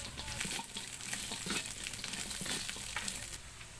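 Chicken pieces frying in hot cooking oil for sisig, a steady crackling sizzle with occasional stirring scrapes, close but fairly soft, no talking.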